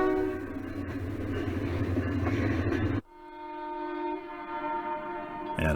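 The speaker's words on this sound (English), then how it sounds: "A GE U-28C makes itself heard as it pulls a string of empties out of West Mill Yard." A model GE U28C diesel locomotive pulling a string of empty cars out of a rail yard on a layout, with a loud steady engine rumble and horn-like tones, then a sudden drop to a quieter, sustained horn blast.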